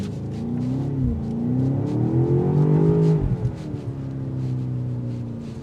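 A 2025 BMW X5 M Competition SUV with 617 horsepower launches hard from a standstill. The engine note rises and swells steadily for about three seconds, eases briefly, then keeps pulling as a loud, continuous roar with no talking.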